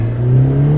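Mercedes-AMG A45s with its 2.0L engine revs briefly, a loud, close, rising engine tone over under a second with no talk.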